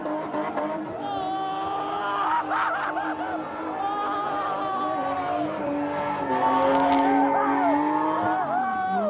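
Cars spin and skid at a late-night illegal street takeover in Maine, with tires squealing in long, wavering shrieks over engine noise, while onlookers chatter and laugh nearby.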